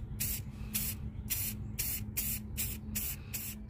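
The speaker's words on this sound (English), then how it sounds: "I'm just going to go ahead and start spray painting" Short hissing bursts of a semi-gloss spray paint can, about eight in a steady rhythm, close and fairly loud over a low hum.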